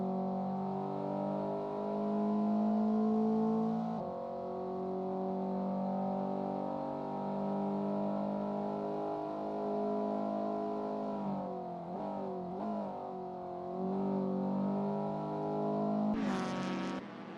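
Race car engine in a sim racing game during an out lap, a steady droning note that holds and shifts pitch as the car works through gears and corners, rising into a louder rev near the end.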